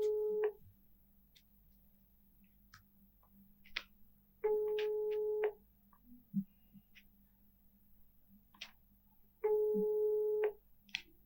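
A telephone rings unanswered on a call to a Talatona municipal administrator's mobile phone, three separate long ringback tones spaced several seconds apart, clear and moderately loud over a quiet line with faint clicks between them.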